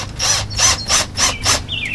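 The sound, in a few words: screws being driven in to mount a doorbell camera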